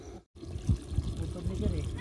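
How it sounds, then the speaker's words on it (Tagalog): Water running and trickling from a leaking pressure tank, a steady low wash with a brief dropout near the start, voices speaking over it. "agas ng tubig pa"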